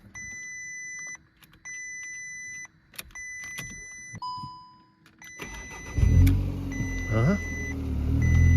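A flood-damaged Volkswagen Polo under repair: warning chimes and beeps sound first, then the engine cranks, catches and settles into a loud, steady idle, with brief talk over it.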